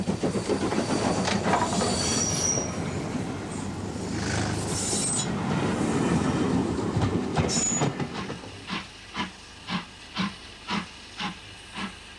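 The steam locomotive Bahamas runs on the Worth Valley railway, first giving a loud steady hiss of steam, then a clear, regular series of chuffs as it works along the line.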